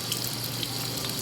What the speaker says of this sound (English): What I do is I run warm water